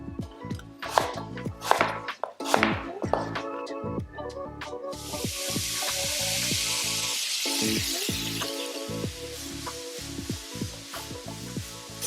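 Beetroot wedges going into a hot pan over medium heat: a run of knife taps and clatter, then a broad, steady sizzle of frying that continues close and fairly loud under more clinks and scrapes.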